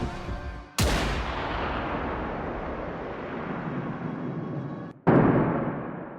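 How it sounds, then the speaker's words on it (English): A single loud gunshot from a handgun fired in a Warframe 1999 cinematic scene, a sharp blast with a long decaying echo, followed about four seconds later by a second abrupt impact. "A vision of Albrecht shown pointing a gun at Arthur and then firing the bullet into us."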